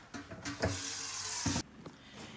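Tap water runs into a pot in a home kitchen while soup is being made, a steady hiss with a few clinks, fairly faint and close, stopping abruptly near the end.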